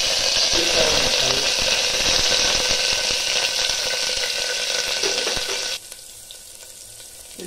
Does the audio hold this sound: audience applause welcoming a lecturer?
no